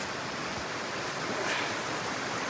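Cold creek water rushes along a winter hiking trail in a Pennsylvania forest, a steady, dense wash of flowing water filling the whole moment without pause or voices.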